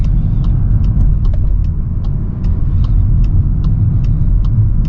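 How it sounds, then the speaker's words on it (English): A 2024 MK8.5 facelift VW Golf R exhaust drones steadily and loudly from inside the car while it drives around a roundabout, a constant deep engine rumble with faint ticking clicks over the top. "I can hear the exhausts making some good noise."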